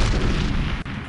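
A grenade launcher round explodes in the N64 game GoldenEye 007 during multiplayer, a single loud, close blast that fills the moment and rolls off quickly.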